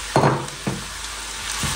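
Vegetables stirred into meat sautéing in a home kitchen pan give a few short sizzling bursts with stirring scrapes in between, close and moderately loud.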